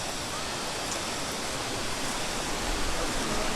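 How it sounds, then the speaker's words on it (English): River water rushing past at a wildlife resort near a riverside spa makes a steady, full hiss with no breaks, loud and continuous throughout. "The water sounds like it's moving."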